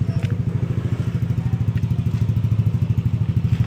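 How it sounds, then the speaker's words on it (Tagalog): A motorcycle engine idles close by with a steady low, rapid thumping throb that holds evenly throughout, with no talking. "Park lang namin to saglit yung motor"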